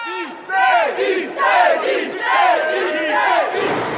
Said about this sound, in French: Un premier bain de foule avec ses supporters français venus du Val-de-Marne.